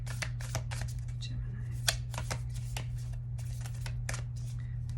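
Large tarot cards are shuffled by hand in a quiet room, giving repeated soft riffling and slapping bursts over a steady low hum.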